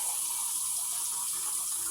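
Tap water runs steadily into a cooking pot, two cups measured in for chili soup, a continuous close hiss and gush with no talking.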